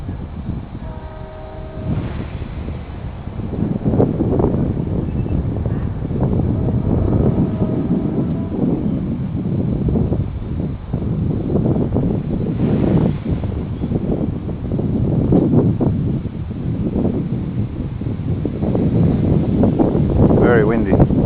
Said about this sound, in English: Very windy. Hard to control with this wind.